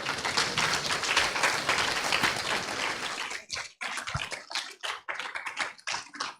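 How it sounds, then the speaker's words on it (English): An audience at a girls' summit stands and gives a panel a dense round of applause as the panelists go back to their seats. The clapping is full and steady at first, then thins into scattered claps. "let's all stand up and clap for them as they go back to their seats"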